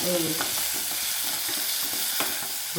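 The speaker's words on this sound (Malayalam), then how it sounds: "ആദ്യം വെളുത്തുള്ളി ചേർത്തു ഒന്ന് മൂപ്പിക്കുക" Garlic sizzles in hot oil in a pan for a Kerala lunch, a dense close crackle with quick stirring clicks and scrapes running through the short stretch, no talking.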